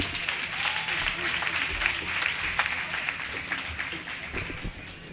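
An audience claps at a college graduation ceremony, a sustained patter of many hands filling a hall, steady at first then thinning toward the end.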